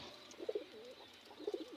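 Pet pigeons give faint, soft coos in two short bursts of throaty notes, close by in an otherwise quiet space with no voices.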